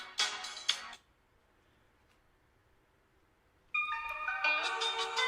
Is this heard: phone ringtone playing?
yes